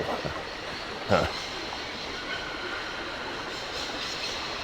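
Low, steady rumble of a train standing at Barrockstadt station in the 2002 video game Syberia, with a brief clank near the start and a constant hiss throughout, no voices.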